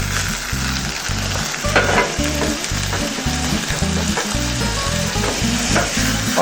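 Onions and artichokes sweat in a hot pan and sizzle loudly and steadily while being stirred together, with a low rhythmic scraping of the spoon repeating throughout, no voices.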